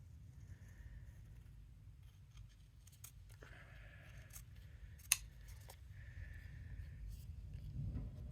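Scissors snip through excess craft paper while making a daisy card, a few short quiet cuts over a low room hum, with one sharp click partway through.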